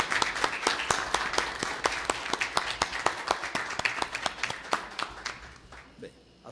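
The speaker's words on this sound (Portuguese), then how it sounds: "eu peço uma salva de palmas à nobre colega" An audience in an ombudsmen council meeting applauds a colleague with a steady run of quick, close claps that thin out and fade after about six seconds.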